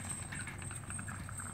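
Hooves of a Friesian cross Dutch Harness mare clip-clopping in a steady, moderately close rhythm over a constant low background hum, with no talking.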